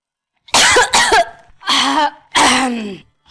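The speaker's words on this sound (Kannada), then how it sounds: "ಯಾಕೋ ಏನೋ ಕೆಮ್ಮು ನೆಗಡು 2 ಒಟ್ಟೊಟ್ಟಿಗೆ ಬಂದ್ಬಿಟ್ಟಿದೆ" Four loud, harsh coughs close up, the first two quick together, then two longer hacking coughs after short pauses.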